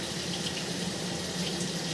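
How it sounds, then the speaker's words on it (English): Water runs steadily into a basement stationary tub, a continuous, even splashing hiss at low volume with no pauses or talk. "I'm also running some water in a stationary tub in the basement."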